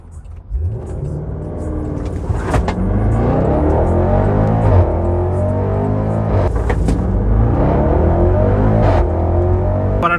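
A Land Rover Defender, unmodified, accelerates hard in a 0-100 speed run, its engine note climbing steadily through rising gears with brief shift breaks, loud and close throughout.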